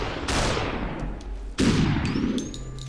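Gunfire in the video game SuperHot sounds as two sharp, loud blasts with long decaying tails, followed by faint ringing tones.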